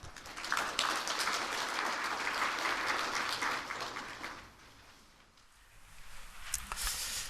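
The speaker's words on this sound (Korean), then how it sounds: "큰 박수로 환영해 주시기 바랍니다" A forum audience breaks into loud, dense applause to welcome a speaker, sustained for several seconds before thinning out, then a few scattered claps follow.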